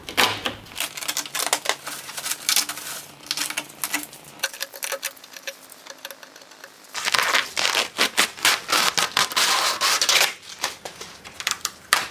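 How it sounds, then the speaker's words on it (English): Masking tape peeled off a Ford Sierra Sapphire RS Cosworth body panel during an amateur paint job, giving close, rapid crackling rips in quick bursts separated by brief pauses. "Now let's move on to this panel and remove the masking tape."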